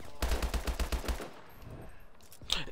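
A rapid burst of about eight automatic gunshots from a random weapon in Call of Duty: Advanced Warfare, close and punchy, then a quieter pause and a brief sharp sound at the end.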